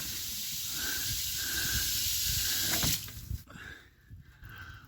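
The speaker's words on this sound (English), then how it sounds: "I actually have a fresh water dump under the water tank, so I can evacuate the freshwater tank pretty quick." Water rushing out of an RV's fresh water tank dump valve, a steady hissing flow that cuts off abruptly partway through, leaving faint gurgles and drips.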